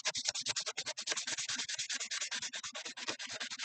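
Rapid, steady back-and-forth rasping of 400 to 600 grit sandpaper on brass, close up, with about eight strokes per second in an even rhythm.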